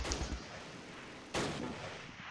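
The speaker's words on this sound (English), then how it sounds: "That sounds like my anti-tank gun being destroyed already." An anti-tank gun being destroyed in the Close Combat World War II strategy game, with a heavy boom at the start and a second sharp blast midway, each followed by rumbling noise.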